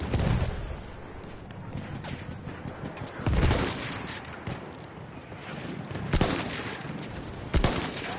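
Gunfire from a downloadable-content weapon in Battlefield 1, with repeated shots and bursts ringing over constant battlefield noise, several louder volleys standing out near the player.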